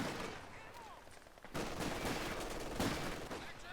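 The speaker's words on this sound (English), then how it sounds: "MG laying down some heavy fire" Machine gun fire in Company of Heroes 2, a Port of Hamburg 3v3 match, with dense rapid bursts rising after a quieter opening amid the clatter of battle, with a voice talking over it.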